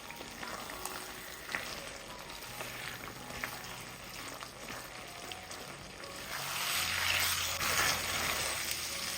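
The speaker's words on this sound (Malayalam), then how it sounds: "ഇനി എല്ലാം കൂടി ഒന്ന് ഇളക്കി കൊടുക്കുക." Beef masala is stirred in a pan with curry leaves, a low sizzle and scraping that runs steadily, then swells louder near the end as the mixture is turned; no one talks.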